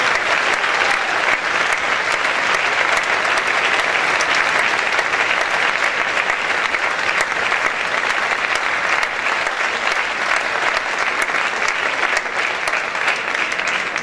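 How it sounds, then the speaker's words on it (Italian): An audience gives loud, sustained applause for a young percussionist from a music college orchestra performing film music, the dense clapping steady and unbroken for the full fourteen seconds. "Quindi l'applauso, facciamo ancora più grande."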